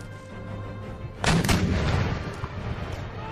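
Gunners fire artillery in a battle in Empire Total War, and a deep cannon boom bursts out after a quiet stretch, followed by scattered rumbling shots and crackling.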